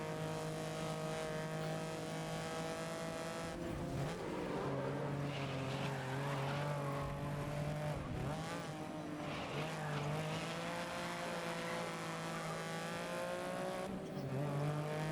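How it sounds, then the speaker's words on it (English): Lancia Stratos race car in the GRID video game drifting around Suzuka, its engine droning and shifting pitch with tire squeal and skidding throughout, steady and fairly loud. "Not very often you get to drift a Lancia Stratos around Suzuka"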